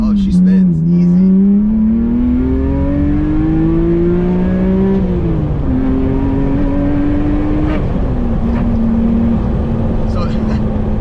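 A BMW E36 with a swapped S54 engine drives with the window down, its loud exhaust note rising in pitch through each gear. The tone drops sharply at the gear changes, close and dominant throughout.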